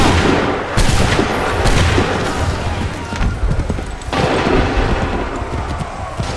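Dense, overlapping musket volley fire crackles continuously in Assassin's Creed 3 Remastered, loud ragged bursts of gunfire layered into a sustained battle roar.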